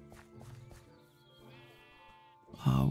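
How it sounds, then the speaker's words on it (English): Sheep in the Minecraft video game bleat a few times, faint and in the background, ending in a louder, closer burst of sound. "Sheep!"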